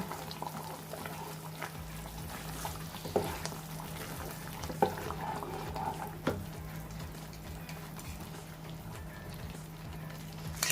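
Wheat halwa with ghee bubbles and sizzles steadily in a nonstick pan while being stirred, with a few louder scrapes and taps from the spoon rising over the constant cooking noise. No one speaks.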